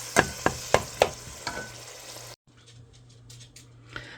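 A pound of ground hamburger cooks in a pot, starting with a run of sharp, evenly spaced scraping strokes and then settling into a soft, close sizzle.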